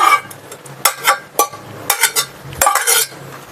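A metal spoon scrapes and clinks against a pot while tempering is stirred into rice, giving a series of short, close, uneven scrapes and knocks with brief pauses.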